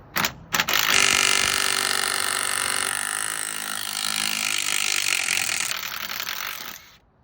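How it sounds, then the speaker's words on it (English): A Dewalt impact driver hammers away at a seized 13/16 bolt, a loud, sustained buzzing rattle of rapid impacts lasting several seconds after a short start, then cutting off. "I'm gonna start out with this Dewalt and just see if it has any potential of taking one off"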